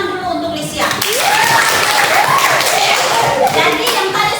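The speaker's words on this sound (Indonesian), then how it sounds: "Tepuk tangan dulu untuk Lucia." A classroom of students claps together in a dense burst of applause, steady and close, with voices calling out over the clapping.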